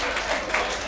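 Congregation clapping hands during a Sunday church service, a steady dense patter of many hands lasting under a second, with a voice mixed in.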